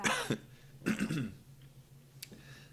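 Two rough throat-clearing bursts close to the mic, then a faint click, with quiet pauses between.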